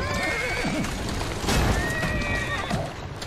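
In Assassin's Creed Syndicate, a horse pulling a cart in Victorian London neighs loudly while its hooves clip-clop steadily, the whinnies rising above the ongoing hoofbeats.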